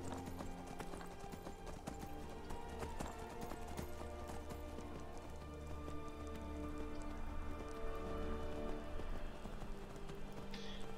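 Horse hooves pound in a steady, rapid clip-clop gallop in Skyrim, loud and continuous, over a dense in-game bed of rain and ambient noise, with no voices.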